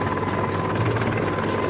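A Mi-26 heavy-lift helicopter thunders steadily with a dense rotor and turbine roar and a regular blade pulse, close and loud throughout with no voices.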